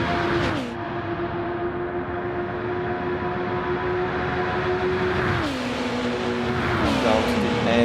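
Race cars at Le Mans in the racing game Flatout drone steadily along a long straight, the engine pitch dropping sharply with each short shift. The engines run loud and continuous, with commentary talk over them.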